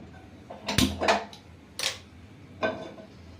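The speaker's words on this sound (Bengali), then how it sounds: "এবার গ্যাসটা আমি জ্বেলে দিলাম।" A kitchen gas stove burner is lit with several sharp, close clicks in an irregular run, then a pause and one last click.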